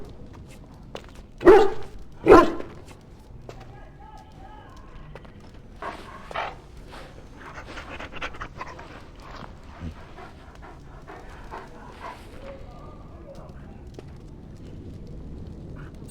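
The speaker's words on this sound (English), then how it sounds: "Bloody dog." Dog in the Dragon Age: Origins video game gives two loud, sharp barks near the start, followed by quieter panting, footsteps and faint background activity.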